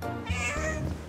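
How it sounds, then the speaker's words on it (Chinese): A cat meows repeatedly, close and clear, while being fed pieces of luncheon meat in a home kitchen, with a steady low hum underneath. "来喂小猫咪吧"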